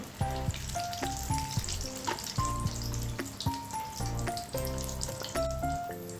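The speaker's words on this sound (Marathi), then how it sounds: "आपल्याला आपला वडा तळून घ्यायचा आहे तो असा तळल्यानंतर हलका झालेला पाहिजे" Vada for Mumbai-style vada pav frying in hot oil, a steady close sizzle with a continuous bubbling texture and no talking.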